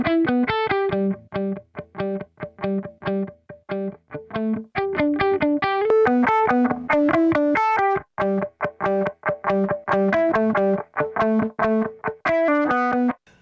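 Electric guitar run through a Combinaut distortion plugin, playing choppy, rhythmic chords and short riffs with a saturated, effected tone, loud and steady throughout with no voices.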